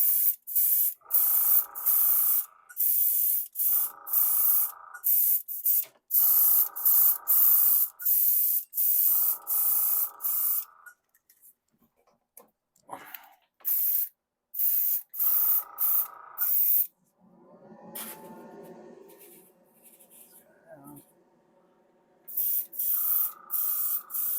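An airbrush spraying Vallejo primer hisses in repeated short bursts of a second or two with brief pauses between, close and loud, with a few quieter rubbing and handling sounds in the gaps.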